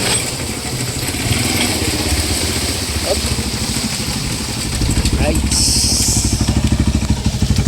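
Motorcycle engine running steadily nearby in a rural province setting, a loud continuous drone that picks up a faster pulsing rhythm toward the end, with a person speaking briefly over it.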